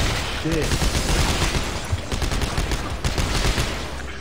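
Dense rapid gunfire aimed at enemies in Dead Space 3, loud bursts overlapping in a continuous fusillade with a voice briefly audible underneath.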